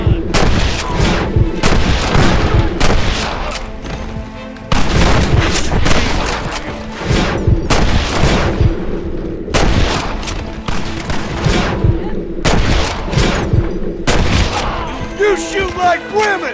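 Repeated bursts of gunfire and heavy booming shots from a Western shootout in the 2010 Xbox 360 game Red Dead Redemption, loud and dense across the whole stretch, with brief gaps between volleys and shouting voices mixed in.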